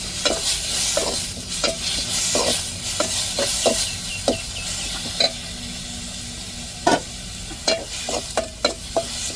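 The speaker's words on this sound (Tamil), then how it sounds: "அம்மியிலேயே நச்சு எடுத்த வெங்காயம், பச்சை மிளகாய், தக்காளி எல்லாத்தையும் நல்லா போட்டு வதக்கி விட்டுருவோம்" Onion, green chili and tomato, crushed on a grinding stone, sauté in hot oil with a steady sizzle, punctuated by sharp clicks and scrapes of stirring throughout.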